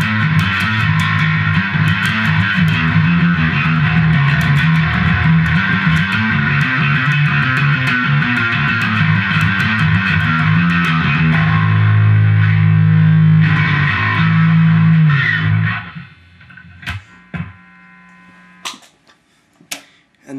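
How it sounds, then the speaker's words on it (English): Fretless bass through effects pedals, with gliding, sustained, distorted notes played continuously before cutting off into a few scattered clicks and taps. "And that's what the fretless sounds like."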